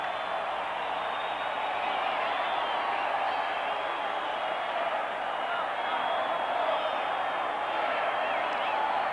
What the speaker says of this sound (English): It's a great crowd, it really is.